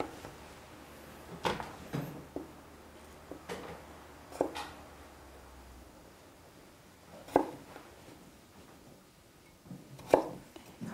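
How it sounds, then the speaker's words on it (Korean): A kitchen knife chops vegetables such as potato, carrot and onion on a board while preparing Salisbury steak, heard as scattered sharp single strikes with quiet gaps, moderately near and with no talk. "야채를 썰어 보도록 하겠습니다"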